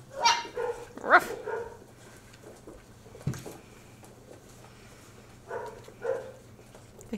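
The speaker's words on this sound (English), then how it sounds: "I hear the other dogs barking." Several short dog barks and yips from a distance, scattered in bursts over a low steady hum.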